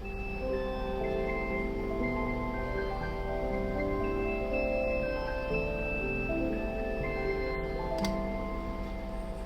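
Synthesizer sequence from the hexagons patch of Lightbath's Summit pack, played through Colorwheel on a Norns, without effects: steady, layered tonal notes moving in a continuous contrapuntal pattern, even and fairly loud throughout with no talk.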